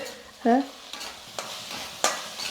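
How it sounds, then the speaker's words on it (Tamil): Onion, ginger-garlic paste and green chilies sauté in a pan for egg rice, with a few quick spatula scrapes and clinks over a faint sizzle and a short squeak near the start. "இஞ்சி பூண்டு பேஸ்ட்டு, பச்சை மிளகா, வெங்காயம் எல்லாமே பாருங்கள் நல்லா வதங்கிடுச்சு"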